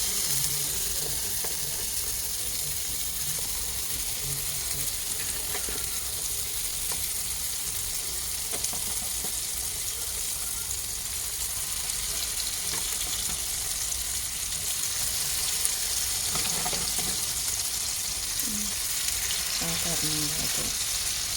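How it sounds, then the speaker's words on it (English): Salisbury steak patties sizzle and fry steadily in a hot pan, a continuous crackling hiss throughout with occasional stirring clinks and faint background voices. "now we're going to go ahead and add our Salisbury steak to the pan"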